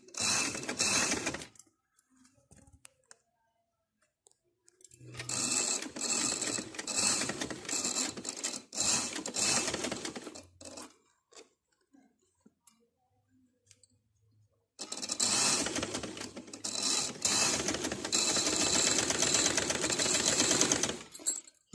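Sewing machine stitching piping onto a kurti ban collar neck, running in three long bursts of rapid mechanical clatter separated by quiet pauses while the fabric is repositioned.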